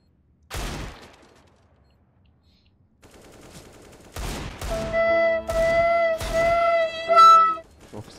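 Negev machine gun bursts in a first-person shooter video game: a short opening burst, a pause, then several loud rapid-fire bursts that follow one after another with ringing tonal overtones.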